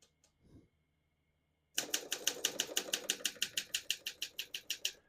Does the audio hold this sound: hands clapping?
no